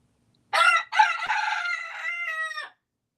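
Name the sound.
rooster crowing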